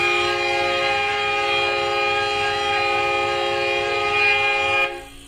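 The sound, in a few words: train horn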